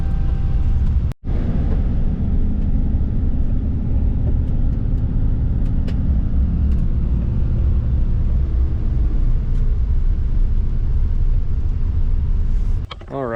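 A farm-fresh 1964 Chevy grain truck rolling along a wide gravel road through rolling hills: a loud, continuous engine drone and road rumble heard from inside the cab for the whole stretch.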